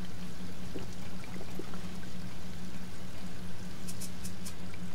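Water is poured in the Sheltered video game, a continuous, even splashing stream over a constant low hum, with a few faint ticks toward the end.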